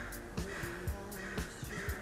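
A bird caws outside, a crow-like call repeated in about four short harsh bursts at a steady pace, standing out over a continuous background of outdoor noise.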